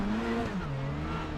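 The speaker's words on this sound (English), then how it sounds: "So as we sit on board with Mikey Doble, let's listen into that launch." A touring car launching from the race start in the iRacing sim at Magny-Cours, its engine note rising then dipping and bogging down over a brief, steady roar.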